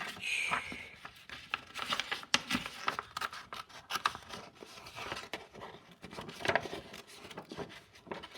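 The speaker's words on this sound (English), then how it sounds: "If you want to cut it out in pieces, you can do that." Scissors snipping through paper to cut out shapes for a design project, a string of short crisp cuts with light paper rustling, quiet and close, no talk.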